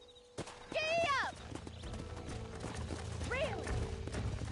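Horse hooves clip-clop at a steady walking rhythm in the Red Dead Redemption video game, close and moderately loud, while two loud horse whinnies ring out over the hoofbeats.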